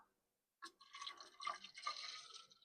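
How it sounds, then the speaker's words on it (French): After a brief silence, water pours into a container in a garden, a close steady trickle with small splashes and dripping, no voices. "Donc, je vais venir remplir d'eau."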